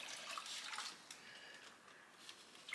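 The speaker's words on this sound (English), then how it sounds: "Pour the vinegar in there." Vinegar pours into a Ziploc bag with a continuous faint splashing trickle that holds steady for a few seconds, with a couple of small drips near the end.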